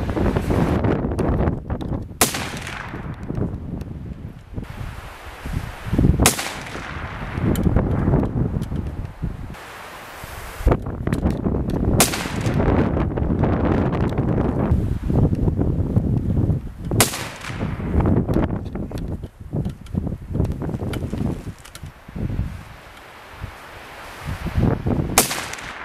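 Rifle shots firing Federal XM193 5.56 NATO military surplus rounds crack out outdoors about six times at irregular intervals, each sharp report ringing over steady wind and rustling.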